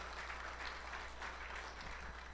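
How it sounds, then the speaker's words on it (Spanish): A church congregation at a worship service applauds continuously, a faint, even patter of many hands with a low steady hum underneath. "¿Por qué no le damos un fuerte aplauso a nuestro Señor Jesucristo?"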